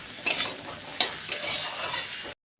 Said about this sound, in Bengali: দিয়ে একসঙ্গে ভালো করে ভাজতে হবে।